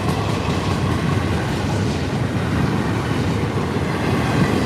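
A train rolls past on railroad tracks in Stuart, Florida, a loud, close, continuous rumble with a rhythmic clatter of wheels over rail joints and no voices.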